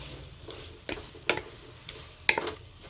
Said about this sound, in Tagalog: haluin na natin para mag-ano na yung mga panakot niya